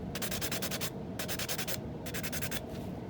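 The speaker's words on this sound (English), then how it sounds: "I'm going to take my sand block and we're going to sand that down" A sanding block rubs back and forth over a glitter water bottle, quick rhythmic raspy strokes in three bursts separated by short pauses, close and quiet.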